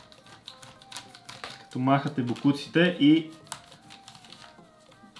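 A mechanical keyboard being cleaned gives off bursts of clattering, rattling keys as it is rubbed, close up and moderately loud, while a person talks over it.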